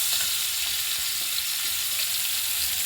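Dried chili and cumin seeds fry as a tempering in oil left from frying prawns, giving a soft, steady, even sizzle close to the pan with no talk.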